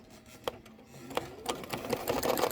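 Embroidery machine stitching out crosshairs in gray thread with a white bobbin, quick rhythmic needle taps that speed into a steady run, close and clear with no talking.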